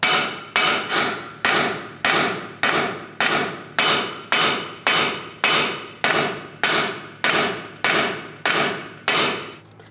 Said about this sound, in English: You can use a hammer. Just give it a tap.